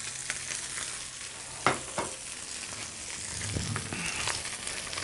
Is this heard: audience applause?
no